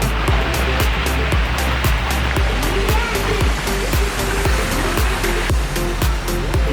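Steady rushing water from a spot at the edge of a stream or falls, a continuous broadband roar filling the whole clip with no talk over it.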